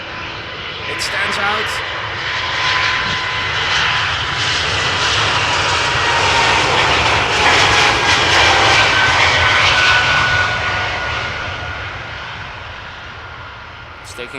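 A jet airliner taking off at Amsterdam Schiphol, its engine roar swelling to a loud, broad rush with a faint whine, then fading as it climbs away, while someone talks over it.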